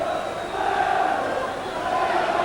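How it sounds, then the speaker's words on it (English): A football crowd of just over ten thousand at Turf Moor, Burnley, a steady broad roar of voices with chanting swells, distant and continuous under a commentator's talk. "Good noise around Turf Moor from the sixth crowd this season"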